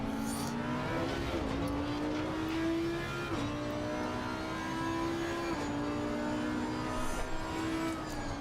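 Racing cars in a video game race, with the steady whine of a close engine shifting pitch through gear changes and other cars droning nearby.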